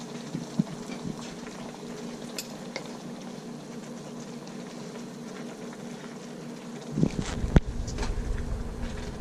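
Fresh chow mein noodles bubbling in a pot of boiling water for beef shrimp chow mein, a steady low rumble of boiling with clinks of utensils and a louder stir near the end.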